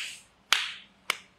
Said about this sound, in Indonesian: Nah, sekarang saya tepuk begini.